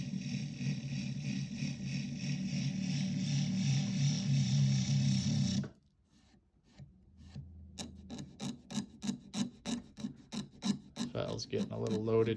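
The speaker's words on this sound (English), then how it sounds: "file's getting a little loaded here. Has some sawdust in it from last time I did this." A hand file, a bastard cut with two different faces and clogged with sawdust, rasps across wood, first in a long steady stroke, then after a pause in a quick series of short rhythmic strokes, close and fairly loud.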